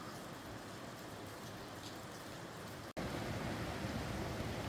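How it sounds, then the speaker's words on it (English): A river flows over small rapids in a gorge, a steady broadband rushing wash heard continuously, with a brief dropout partway through before the even, close roar resumes slightly louder. "can hear the river going two ways, like there's a waterfall there somewhere or something. Little rapids"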